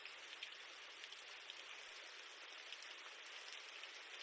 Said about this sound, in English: hear the first pitter patter of the rain